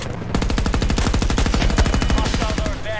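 Sustained automatic gunfire in the Battlefield 2042 video game, a rapid unbroken stream of loud shots lasting about three seconds with no pause.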